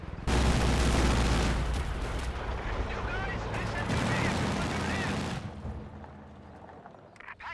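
Machine gun fire in Company of Heroes 2, with dense, loud bursts of gunfire and booming blasts rolling together for about five seconds, then dropping to a quieter lull.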